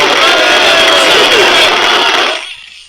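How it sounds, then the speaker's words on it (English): A short burst of loud crowd cheering and clapping that stops abruptly after about two seconds, like a canned applause effect, played during a Hearthstone game stream. "We'll give you applause for that."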